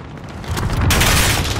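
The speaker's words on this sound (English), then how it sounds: "Allied cruise missile away." A cruise missile explodes in Call of Duty Modern Warfare, a loud deep boom swelling into a sustained roaring blast that fills the mix for over a second.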